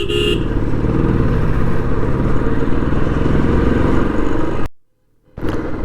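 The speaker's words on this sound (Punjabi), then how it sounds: "ਗੱਡੀਆਂ ਲਾਨੋ ਲਾਨ ਚੱਲ ਰਹੀਆਂ ਨੇ ਪਰ ਮੋਟਰਸਾਈਕਲ ਨਿਕਲ ਜੂ" A motorcycle rides through steady, dense road traffic on a narrowed single-lane highway, its engine drone loud and continuous before a sudden brief dropout, then the roar resumes.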